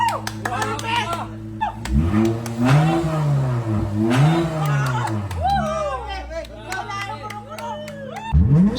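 A Lexus IS350 engine revs hard toward high RPM, rising and falling in pitch over several seconds, with crowd chatter and exclamations mixed in around it.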